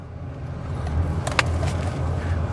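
A 1970 Chevrolet Caprice with a 350 V8 rumbles at low idle as it is shifted into drive and begins pulling away, with a brief click of the shifter in the middle.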